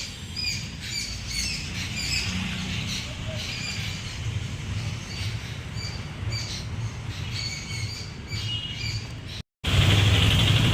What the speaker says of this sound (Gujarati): મસ્ત પક્ષીનો અવાજ આવે છે.